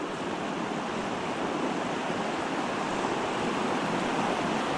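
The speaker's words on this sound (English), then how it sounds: "the water's flying through here now" A fast-flowing stream in winter rushes continuously, a dense steady broadband roar heard up close with no talking.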